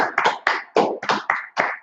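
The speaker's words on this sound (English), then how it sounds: "Clap it up. Clap it up." A group claps hands together at a brotherhood class gathering, about eight sharp, evenly spaced claps in a steady rhythm, close and clear with no talking.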